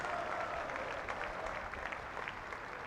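A cricket crowd at the Kia Oval applauds steadily through a County Championship match between Surrey and Nottinghamshire, making an even, dense wash of clapping from a distance with no clear breaks.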